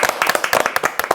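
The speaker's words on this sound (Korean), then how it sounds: "박수 한번 드려야 될 것 네." Audience clapping at a Korean farmland bank information session, a brief burst of brisk, irregular hand claps from a small group, close and clear.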